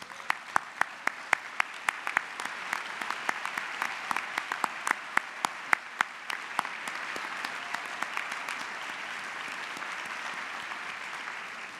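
Convention audience claps steadily for state captains at an annual arts convention, a dense, sustained wave of applause with sharp individual claps popping out near the front, fading slightly toward the end.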